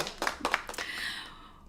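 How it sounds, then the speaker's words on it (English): A handful of quick hand claps during a live-streamed sneaker show, faint and sparse, fading out after about a second. "So everybody bring your best applause out."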